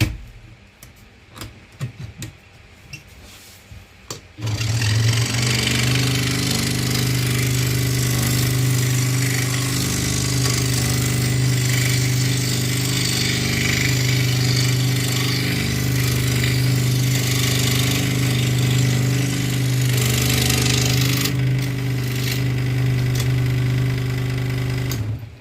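A scroll saw cuts a wooden picture with a steady, loud mechanical buzz and rapid reciprocating chatter that runs continuously after a few seconds of scattered clicks and handling noise.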